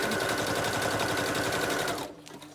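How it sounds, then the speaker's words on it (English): A sewing machine zigzag-stitching through layered paper strips runs in a fast, even mechanical chatter, close and loud, then stops abruptly near the end, leaving faint quiet. "I'm sewing through every layer. That's why I use a zigzag stitch too."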